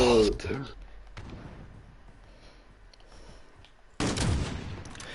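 Gunfire from Call of Duty Modern Warfare on PS4: a loud, dense burst of shots opens, fades into a quieter stretch of game noise, then another sharp, heavy volley breaks out near the end.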